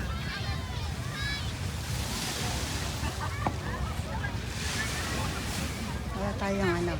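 Sea waves washing ashore at Sentosa, Singapore, a steady broad surf wash with wind noise, while several people talk nearby over it.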